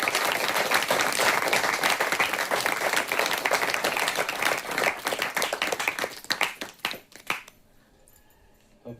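A church congregation claps loudly and steadily for several seconds in a sustained burst of applause that thins out and fades near the end.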